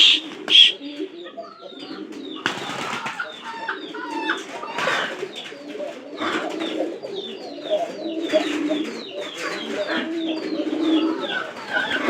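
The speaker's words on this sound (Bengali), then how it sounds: "এই যে এরা হলো পায়রা" Newly bought pet pigeons coo in soft, repeated low throaty calls close by, with scattered chirps and rustling between them and a voice faintly present.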